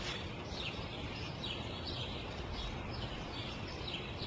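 A sparrow chirps in short repeated calls, faint and somewhat distant, over a steady outdoor background hiss.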